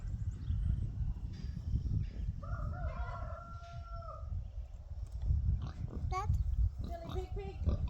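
Farm pigs grunt and oink close by amid rustling and scratching, while a rooster crows once in the middle and people's voices come and go.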